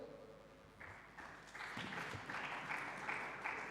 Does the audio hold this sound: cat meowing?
no